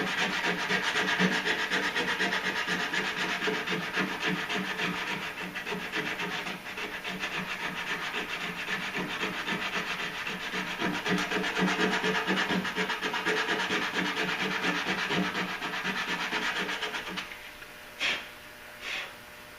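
Continuous hand sanding of a damaged fiberglass truck bumper being dished out for repair, a steady close scratchy rubbing that runs on without pause and ends in a few short separate strokes.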